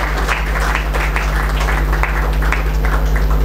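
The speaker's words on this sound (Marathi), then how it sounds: "तेव्हा सर्वांनी टाळ्या वाजवायच्या." Steady applause from an audience at a coaching class ceremony for Class 10 result toppers in Amravati, continuous dense clapping holding at even loudness with a constant low hum underneath.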